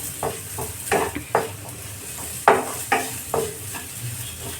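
Tomatoes frying in a pan over a medium gas flame while being stirred, a constant sizzle broken by repeated scraping spoon strokes at an uneven rhythm, close and fairly loud.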